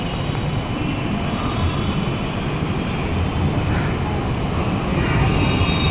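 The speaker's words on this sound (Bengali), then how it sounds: "মেট্রো এন্ট্রি নিচ্ছে" A metro train pulls into a station, giving a steady, loud rumble of wheels and motor that holds evenly throughout with no clear breaks.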